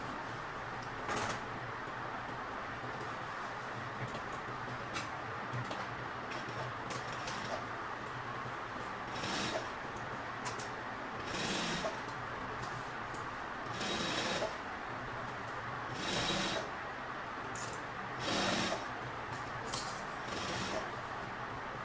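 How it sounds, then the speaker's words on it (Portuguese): Home sewing machine stitching a seam around the edge of a simple fabric teacher's tote bag, steady mechanical whir rising in short bursts between pauses, close and moderately loud, with someone talking over it. "E agora nós vamos passar uma costura em toda a volta da nossa bolsa."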